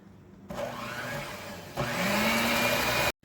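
Funnel cake batter is whipped by an electric mixer, a loud, steady motorized whir that starts abruptly, climbs to a higher, stronger pitch halfway through, then cuts off.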